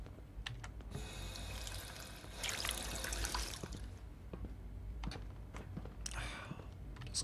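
Steady running water in Fallout 4, continuous and moderately close, with faint clicking that sounds like typing layered over it.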